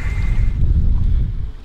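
Wind gust hitting a sailboat, a loud, blustery low roar of wind buffeting the microphone with a steady rushing texture throughout.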